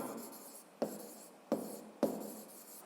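Pen on paper, faint and close, as an answer to a fifth-grade math exercise is written by hand, with soft scratching broken by three sharp taps.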